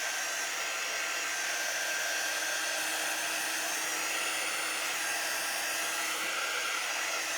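A hair dryer blows continuously at close range, drying a chalk surface, a loud steady whooshing hum that fills the whole stretch without speech.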